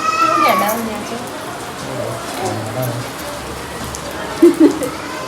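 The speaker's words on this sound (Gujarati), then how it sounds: "બિન સિઝનમાં વરસાદ બિન સિઝનનો વરસાદ" Unseasonal rain falls on a farm, a soft, steady patter and hiss close by, with a voice briefly heard early on and a couple of short meow-like cries near the end.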